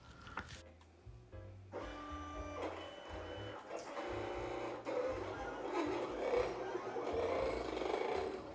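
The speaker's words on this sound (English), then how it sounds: "I always like to keep an eye on this vinyl cutter because you never know what's going to happen" A vinyl cutter slices Oracle 651 vinyl, its motors whirring and stepping in short pitched bursts and stuttering tones as the carriage moves back and forth over a quiet room.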